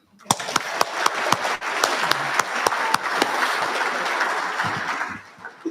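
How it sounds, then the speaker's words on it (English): An awards dinner audience breaks into sustained applause, dense and loud, with a few sharp individual claps standing out before it tapers off at the end. "round of applause for the voice"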